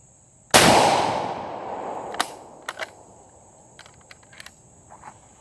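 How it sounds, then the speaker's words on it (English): A single sharp, loud Arisaka rifle shot at the range, followed by a fading ring and a few faint distant pings from a steel gong. "I've never shot this with the Arisaka, so I'm going to shoot one round"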